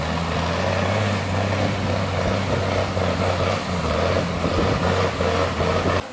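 An old 5-ton military truck engine labors at high revs up a slippery, muddy hill after rain, a loud, steady low drone with grinding mechanical texture running unbroken and close throughout.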